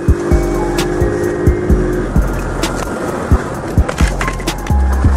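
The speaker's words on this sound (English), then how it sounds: "So we're riding this thing on gravel right now." Small Trail 70 CT70 clone motorbike ridden over gravel, a steady close engine drone with repeated sharp knocks and crunches from the rough surface, no talking.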